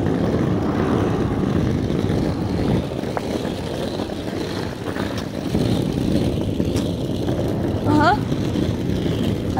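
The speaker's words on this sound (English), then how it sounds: "That's a 717 Delta Airlines." A Delta Airlines Boeing 717 passes overhead with a broad, steady jet roar that holds for the whole stretch, loud and sustained outdoors, while a few chirps and faint background sounds come through.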